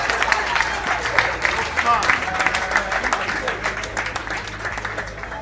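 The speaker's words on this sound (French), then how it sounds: "Applaudissons pour le général" A crowd applauds for a general at a ceremony celebrating General Marcel Mayimba's promotion, steady clapping with crowd noise and a voice talking over it.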